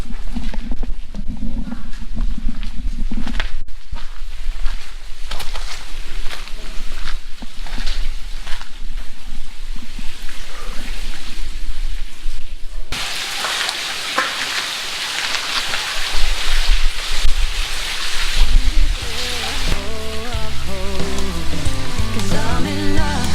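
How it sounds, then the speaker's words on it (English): A waterfall in the White Tank Mountains desert pours with a constant rushing, splashing roar, and music joins and grows louder in the later part. "we have a waterfall."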